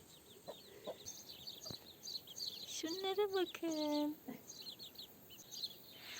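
Chicks peep and cheep in the background while a rooster gives a loud crow in the middle; someone speaks briefly in Turkish near the start, in a village.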